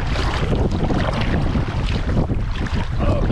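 Strong, steady wind roars and buffets the microphone while a kayak is paddled on open water, with water noise beneath and no voices.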